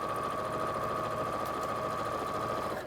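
A sewing machine runs in a steady continuous hum with a fine rapid mechanical patter, close and even throughout.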